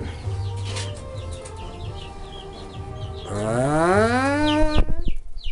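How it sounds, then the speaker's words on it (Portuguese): A pet duck kept among other pet birds calls with harsh, nasal honks, rising into a louder drawn-out cry near the end, close by and with no one talking. "O pato dele."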